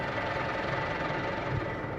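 New farm tractor engine running in a field during bean harvest, a steady low droning hum with a faint knocking texture, continuous and fairly quiet.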